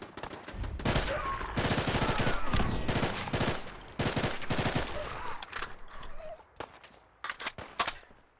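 Rapid automatic gunfire from a fast-firing weapon in modded Fallout 4 while fighting raiders, long loud bursts of tightly packed shots, then shorter scattered volleys toward the end.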